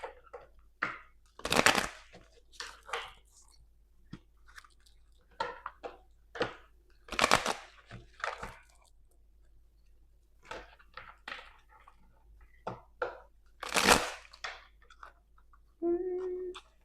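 Tarot cards being shuffled by hand in a quiet room, close and intermittent, with sharp riffling bursts and softer card slides separated by near silence.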